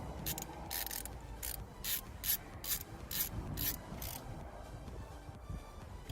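A ratchet wrench tightens the nut on a Honda Accord alternator terminal: a string of close, sharp clicking bursts with short pauses between strokes, fading into quieter rubbing at the end.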